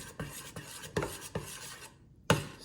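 Spoon scraping and knocking around a bowl of melted dark chocolate during tempering, several short strokes in a loose rhythm, close and moderately loud, with a brief quiet gap before a final firm scrape.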